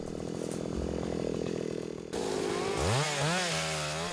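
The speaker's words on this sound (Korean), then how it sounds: "또다시 기계톱 소리가 울리는 백운산." A chainsaw roars steadily up close, then its pitch rises and falls as the engine revs while cutting trees and clearing brush on a forested mountain.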